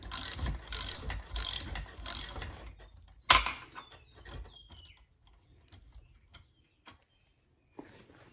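Bronze bevel gears of an old self-steering vane on a sailboat turn with a few loud ratcheting grinds, then fainter scattered mechanical clicks and ticks with pauses, close by.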